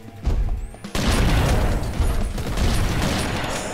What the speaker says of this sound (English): Explosions, explosions, explosions!